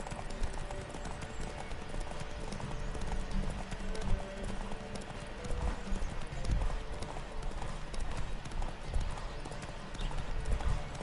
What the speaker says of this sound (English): Supone que tiene mucha resistencia este caballo.